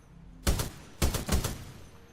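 Three sharp gunshots at a shooting range in the Titanfall 2 video game, one single report followed by a quick pair, loud and close against a quiet background.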